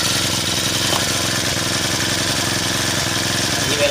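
Chinese GX35 brush cutter four-stroke engine running in during break-in, held in a basket, a steady close rattling idle with constant rapid chugging throughout.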